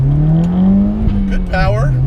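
Modified 2015 Subaru WRX with stock turbo pulled to full throttle, a loud sustained engine drone rising steadily in pitch, dipping briefly at gear shifts, with cabin speech partly over it.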